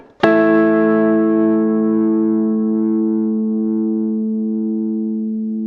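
A guitar played like a synthesizer through effects rings out as a single struck chord, bright and sustained, decaying slowly with a long, even tail and no voices.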